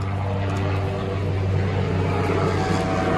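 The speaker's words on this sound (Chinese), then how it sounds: "哟这个飞机咋真低啊" A low-flying helicopter passes overhead, its steady droning rotor and engine rumble loud and continuous throughout, with a strong low hum dominating.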